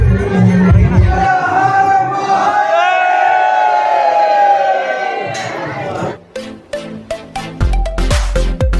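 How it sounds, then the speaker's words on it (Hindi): A crowd at a Hindu temple during Shivratri: loud collective chanting and shouting voices swell together for several seconds, then break into scattered claps, knocks and clatter close by. "आप देख सकते हैं कितनी भीड़ है"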